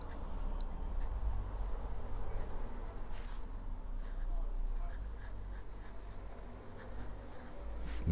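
A medium-nib piston-filler fountain pen with Diamine Grey ink scratches steadily across paper, a faint, continuous close-up scribbling over low room hum.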